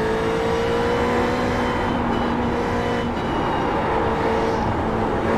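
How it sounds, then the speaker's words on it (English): A race car in a VRS racing sim at Road America, its engine holding a loud steady drone with a tonal whine as the tyres spin up and lose grip, continuous and close. "Spun up my tyres on that."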